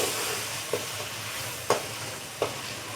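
Chopped medium tomatoes fry in a pan for egg matar pulao, a soft steady sizzle broken by three brief stirring scrapes.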